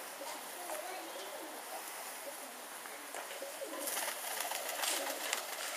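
Pigeons coo softly and repeatedly nearby over a steady watery rush, with the cooing growing a little louder toward the end.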